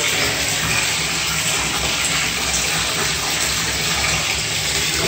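Cold water runs hard from a tap into a bathtub for a cold bath, a loud, steady, close rushing gush that continues unbroken without any talk.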